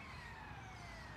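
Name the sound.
siren from nearby football oval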